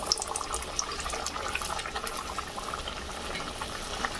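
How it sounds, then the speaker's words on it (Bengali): Rolled nanpuri dough frying in hot oil, a continuous bubbling hiss with scattered bright pops and crackles, steady and moderately loud with no talking. "তেল গরম হয়ে গেছে। এবার বেলে দেওয়া নানপুরিগুলো দিয়ে দিব।"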